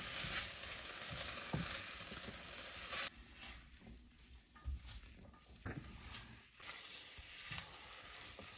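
Winter soup cooking in a pot, a soft steady sizzle and bubbling with occasional light stirring clatter, fairly faint, with no talking.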